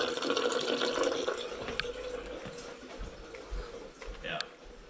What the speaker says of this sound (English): there's like no water pressure in this sink